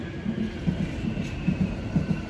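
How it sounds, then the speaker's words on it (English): A tram rolls past a backyard, its low rumble and repeated rhythmic wheel clacks over rail joints sounding close and steady throughout, with no voices. "not expect a tram to be coming by to interrupt that clip"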